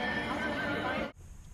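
A loud, close whinny from a miniature horse at an indoor holiday expo fills the moment, then breaks off abruptly into a quiet hall murmur.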